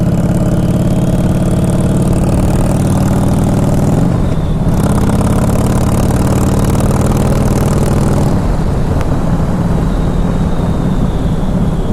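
A 2011 Harley-Davidson Fat Boy Low motorcycle engine rumbles steadily and loudly up close, a deep idle that briefly dips around the middle before settling back into its continuous throb.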